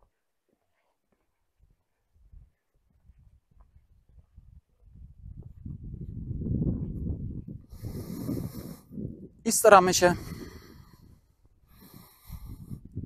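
Someone demonstrates slow breathing in and out through the nose while walking, with soft airy breaths and scattered footsteps building to a sharper nasal exhale, followed by a few spoken words.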